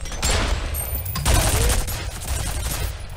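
Rapid gunfire bursts loudly from a weapon in the video game F.E.A.R., a dense volley of shots blending into game ambience over about three seconds.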